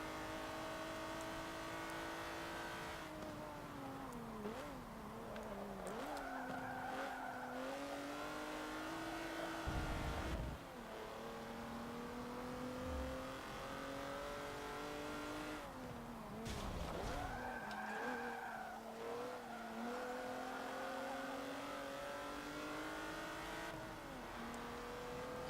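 Racing cars in Forza Motorsport 7, a sport luxury race including Cadillacs, with steady engine drone, shifting revs and tire squeals and skids, moderately loud with no talk.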